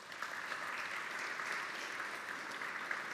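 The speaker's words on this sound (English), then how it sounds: "give them a very big round of applause." An audience at a talk about using data and AI to monitor wildlife in parks claps steadily in a dense, even wash of applause, fairly quiet and with no voices over it.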